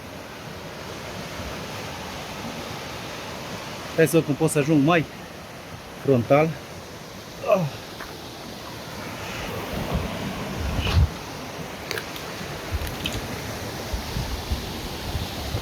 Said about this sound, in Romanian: Wow, ce fain se vede cascada.